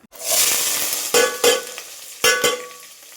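Finely chopped onions, mustard seeds, crushed garlic and curry leaves hit hot oil for a sambar with a loud rushing sizzle, then settle into frying punctuated by several sharp stirring scrapes, with no voices.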